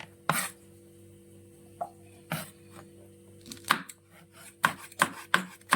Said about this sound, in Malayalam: പച്ചമുളകും ഇങ്ങനെ ചെറുതായിട്ട് അരിഞ്ഞെടുക്കാം കേട്ടോ